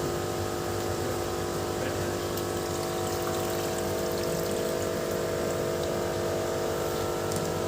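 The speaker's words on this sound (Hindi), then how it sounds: "मैं पहले पानी को बाहर निकाल दे रहा हूँ." Water is pumped out of a marine fish aquarium tank as a steady, continuous whir with rushing, flowing water, close and even in loudness throughout.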